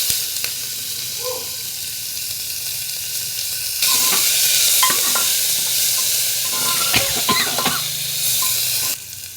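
Onions frying in hot oil in a pan alongside cumin, dried chilli, clove and cardamom, giving a steady sizzle that swells louder partway through, with scattered crackles and spoon stirring.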